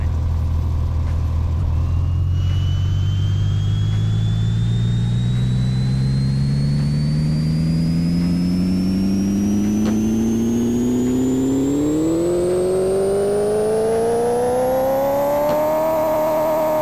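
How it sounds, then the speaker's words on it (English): A Ferrari engine in a car-building video game revs on a dyno, its pitch climbing steadily from a low idle to a high scream over about sixteen seconds, loud and continuous, with no talking. "let's go ahead and run it on the dyno and see how well this thing does"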